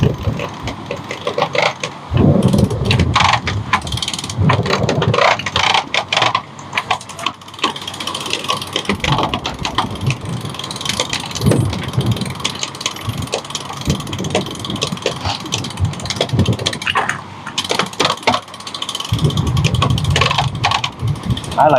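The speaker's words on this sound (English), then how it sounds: "this is the fast speed on the manual winch" A manual sailboat winch is cranked at its fast speed, giving a steady, rapid ratcheting click of the pawl and gears that runs close and continuous throughout, with occasional bumps and rustles around it.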